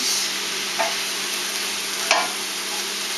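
Meat browning in a pan, with a steady hiss of frying throughout and two brief scraping stirs, one of them louder, close by.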